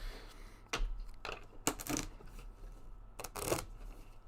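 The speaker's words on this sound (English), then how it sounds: "So we'll shuffle these up." Playing cards are shuffled in a few quick riffling bursts separated by short pauses, close and fairly quiet, with soft rustles and taps between them and no voices.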